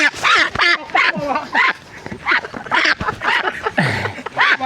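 Several ducks quack close by in loud, repeated bursts, overlapping and irregular in rhythm.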